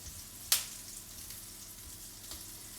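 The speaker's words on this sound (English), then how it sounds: "Throw in your little discs of zucchini, and we're going to fry those up until they're golden brown." Discs of zucchini frying in butter in a hot pan, a soft steady sizzle and crackle with one sharp pop near the start.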